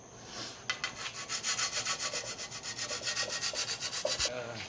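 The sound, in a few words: filing a blade to sharpen it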